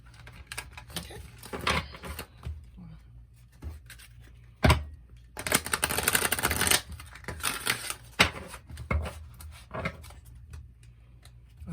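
A new deck of cards is shuffled close up, with scattered clicks and taps followed by a dense, riffling burst in the middle, then more light handling clicks.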